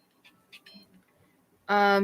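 A mobile phone notification beep cuts in suddenly, loud and sustained near the end, after a stretch of quiet, faint background voice during a sewing business talk.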